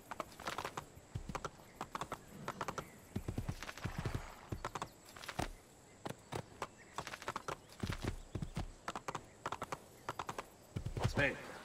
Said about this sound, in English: This is a pretty horse.